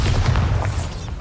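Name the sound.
Bombarda spell explosion in video game Hogwarts Legacy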